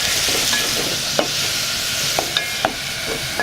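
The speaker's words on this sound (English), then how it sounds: "she first stir-fried some onions and carrots and caramelized them in some oil" Onions and carrots stir-fried in oil for a prawn curry in a Lamu Island, Kenya kitchen, a steady close sizzle broken by a few sharp utensil scrapes and taps, with no voices.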